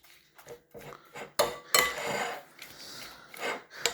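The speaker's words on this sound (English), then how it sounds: "now we just mix it up all nicely here" Banana and lemon juice for homemade banana ice cream are mixed in a bowl, with close, uneven scraping and clinking of a utensil against the bowl in short bursts.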